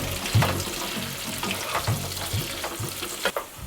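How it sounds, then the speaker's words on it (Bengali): Capsicum, green chili and onion for restaurant-style chili chicken frying in a pan over high flame, a steady close sizzle broken by several stirring scrapes. "ক্যাপসিকাম পেঁয়াজটা হাই ফ্লেমে ভাজবেন এরমভাবে।"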